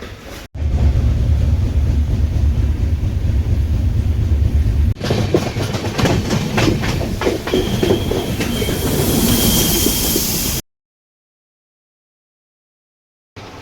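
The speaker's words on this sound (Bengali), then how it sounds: "চলো ট্রেন ছেড়ে দিয়েছে এখন আমরা চলো।" A moving passenger train on the Kolkata to Puri route, with a loud continuous rumble of wheels on rails, rhythmic clacking and squeal, then an abrupt cut to silence near the end.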